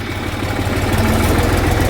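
A tractor engine idles close and loud, a steady low throbbing chug with constant vibration and no voices.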